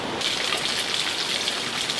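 Waterfall in Thailand, visited on a trip: a steady, dense rushing and splashing of falling water, loud and close, continuous for the whole clip with no talking.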